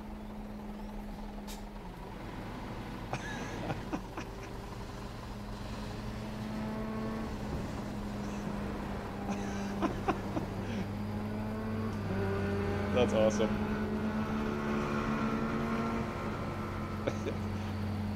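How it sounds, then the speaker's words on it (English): Engine revving in a truck simulator game on a Romania map mod, a low droning hum with slowly shifting pitch that holds steady at moderate volume, while someone briefly speaks over it. "It sounds like he's like revving her up right now."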